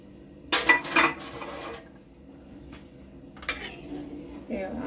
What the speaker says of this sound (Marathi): उकळी येईस्तोवर तांदूळ जरा हलक्या हाताने हलवून घ्यायचे आहे।